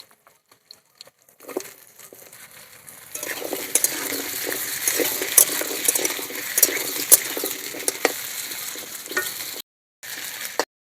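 Potatoes and onions fry together in a pan, a steady close sizzle rising after a quieter start, with scraping stir strokes and light utensil clinks throughout and a brief pause near the end.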